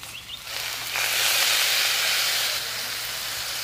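Milk poured into fried spices in a hot pan sets off a loud, sustained hiss and sizzle that swells after a brief quiet start, then settles slightly lower but keeps going.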